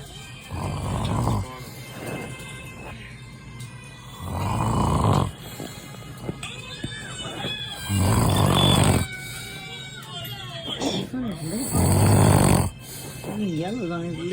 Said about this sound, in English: Excuse his snores.